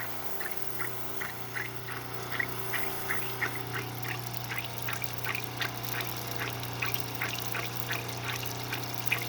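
Water runs steadily over a lapidary grinding wheel cutting Montana agate, a constant motor hum under wet splashing, with quick regular ticks and spatters in an even rhythm, close and moderately loud.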